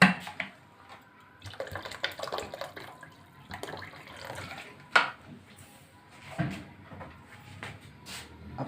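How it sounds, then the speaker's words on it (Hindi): Water splashes and trickles into a pan of hot and sour chicken mushroom soup in a few short bursts, with clinks and clatter of cookware around it; fairly close and moderately quiet. "थोड़ा सा पानी में इसमें और ऐड करूँगी।"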